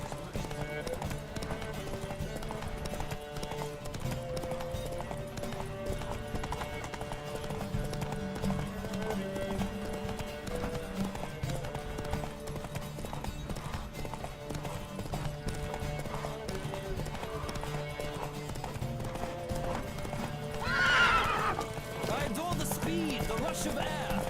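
Horses galloping in a race in The Witcher 3, a steady rhythmic clip-clop of hooves under game music, with a short neigh near the end.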